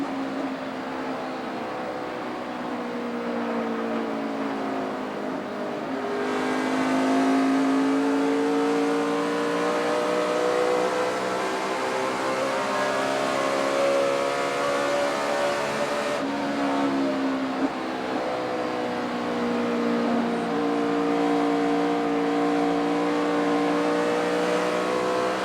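In-car sound of Dale Earnhardt Jr.'s NASCAR Sprint Cup race car at the 2008 Kobalt Tools 500: a loud, continuous engine roar that dips and climbs twice as the throttle is lifted and reapplied through the lap.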